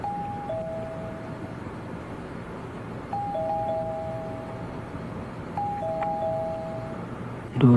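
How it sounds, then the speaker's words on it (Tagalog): Apartment doorbell chiming a two-tone ding-dong three times at evenly spaced intervals, clear and moderately loud over a low background hiss, with a sudden bump at the very end. "Doorbell ko yun ah."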